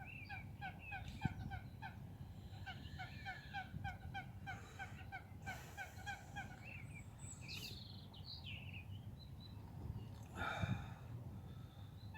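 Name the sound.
birds calling loudly in the morning, fowl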